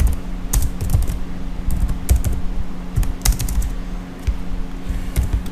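Rapid typing on a computer keyboard while writing PHP database connection code, with crisp, irregular clacks and bursts of keystrokes close up over a low steady hum.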